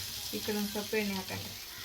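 Mackerel (bangda) fish frying in oil in a pan, a soft steady sizzle with faint stirring and scraping under quiet talk.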